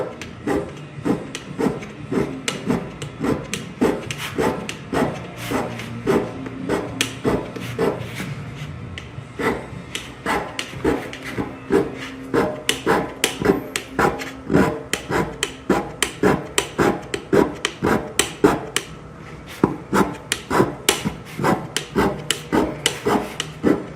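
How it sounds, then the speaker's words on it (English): A hand scraper works the cast-iron column of a machine tool, cutting a pattern in a fast run of short, crisp rasping strokes, with the rhythm growing regular and close in the second half. "They really wanted to see some scraping action"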